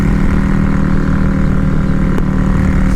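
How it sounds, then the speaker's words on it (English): Yamaha V-Star XVS 650 cruiser motorcycle engine droning steadily at highway speed around 65, a loud continuous hum with mild revving and wind rush throughout. "we kind of hear that engine revving up a little"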